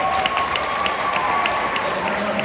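An audience applauds for a performer during a Western music show at the Flying W Ranch, with steady sustained clapping from a crowd filling the whole stretch.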